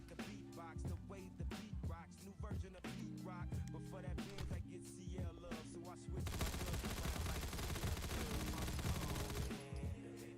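Gunfire in the Fallout 4 video game rattles in quick bursts over loud, steady game music, growing denser and more continuous partway through.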